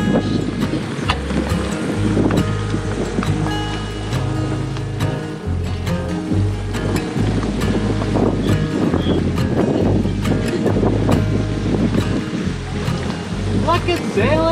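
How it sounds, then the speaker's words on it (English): A sailboat comes in to a mooring amid gusting wind and water noise, with excited voices calling out over the steady rumble. "Look at sailing vessel Calico Skies!"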